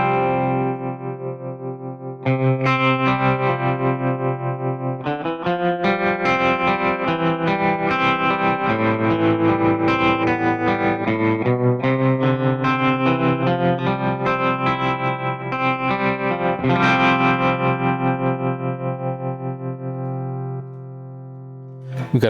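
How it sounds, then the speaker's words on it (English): Electric guitar through a Fractal FM9 with tremolo for an Americana tone plays sustained, pulsing chords and melody lines that keep going for over twenty seconds, steady and upfront with no talking. "We could kind of go for our like Americana type sound with the tremolo."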